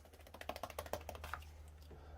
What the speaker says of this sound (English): Shuffle the deck here.